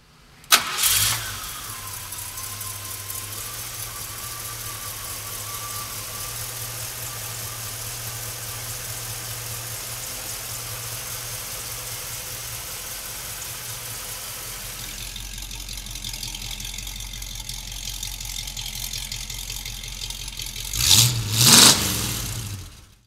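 A 1956 Ford pickup engine cranks, catches and settles into a steady, loud idle with an even low rumble, then revs up sharply near the end with a couple of rising bursts.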